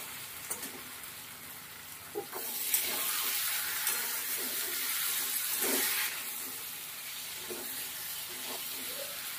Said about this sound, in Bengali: আর একটু কষাবো, পুরো কষানো হয়নি,